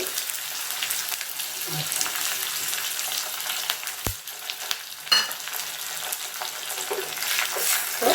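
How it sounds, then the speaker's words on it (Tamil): Dal, green chilli and curry leaves sizzle steadily in hot oil for a South Indian tempering, a continuous close crackle with occasional stirring scrapes. "தாளிப்பு முடிஞ்சிச்சுங்க நல்லா சவக்க பருப்பெல்லாம் நல்லா இதுவாகிடுச்சு கோல்டன் கலராக வந்துடுச்சு"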